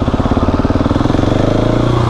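An SMCR motorcycle engine runs close up with a loud, rapid, even pulsing beat, the pitch climbing slightly as it is revved, with no talk over it.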